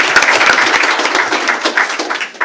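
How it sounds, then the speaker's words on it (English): Audience at a school board of trustees meeting claps in a steady, dense round of applause for a band student, loud and close throughout, with no talking over it. "let's give her a round of applause."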